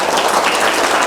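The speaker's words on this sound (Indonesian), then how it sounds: "Tepuk tangan dulu untuk kawan." Schoolchildren and onlookers at a museum visit applaud a classmate, a short burst of brisk, fairly loud clapping from a small group, with no talking.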